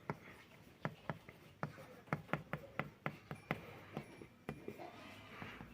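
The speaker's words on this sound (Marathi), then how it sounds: "तर आता इथे लिहून दाखवत आहे की जाड अक्षरामध्ये विश्व लिहित आहे मी" Stylus strokes scratch across a 12-inch LCD writing tablet as thick letters are written, a series of about fifteen crisp, close taps and short scrapes in an irregular rhythm, with no talk.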